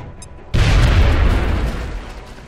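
A rocket explodes in the video game XCOM: Enemy Within: a sudden loud, deep boom hits about half a second in, then a broad rumbling roar slowly fades over the next two seconds.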